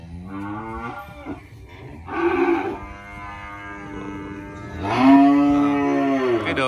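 Cattle at a cattle farm in Ba Tri moo loudly and close, three long, drawn-out calls separated by brief pauses, the last one the longest and strongest.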